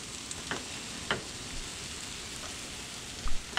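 Eggs fry sunny side up in a pan with a steady, soft sizzle throughout, broken by a few light clicks and scrapes from a utensil.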